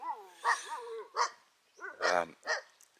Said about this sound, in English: the dogs like to come and bark at everything